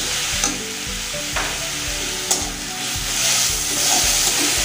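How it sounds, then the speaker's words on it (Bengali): Onion, ginger, garlic and chilli pastes fry in a pan for a soya chunk curry, a steady close sizzle broken by a few sharp clinks of a spatula being stirred through, with no talking. "এবার দিয়ে দেব আদা বাটা,"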